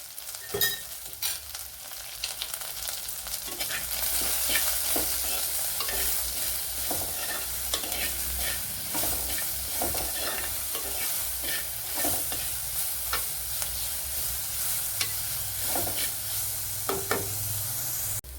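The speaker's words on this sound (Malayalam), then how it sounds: "ഇതിലേക്ക് ചെറിയൊരു സവാള ചേർത്ത് കൊടുക്കുക ഇനി ഇതിലേക്ക് ഉപ്പിട്ട് കൊടുക്കാം" Sliced onion sautéing in oil with salt for a Kerala velapara fish curry, a steady close sizzle broken by frequent scraping stirs of a spatula against the pan, with no talking.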